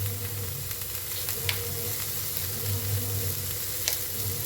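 Onion and ginger frying in oil for a dhaba-style egg masala, a constant close sizzle with a low hum and a few light scrapes of stirring, no talking.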